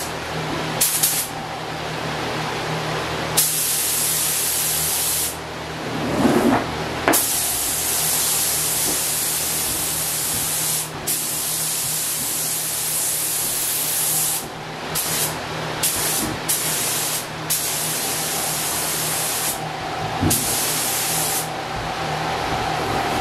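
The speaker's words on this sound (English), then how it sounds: "So let's see how this sprays, shall we?" Spray gun painting the hood of a Mercedes W108 4.5, loud hissing bursts of spraying that start and stop in passes of several seconds each, with short quiet gaps between them, up close.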